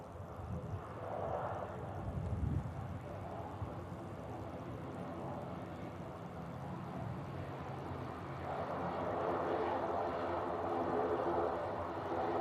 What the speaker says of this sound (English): We have an Aer Lingus ATR on a taxi out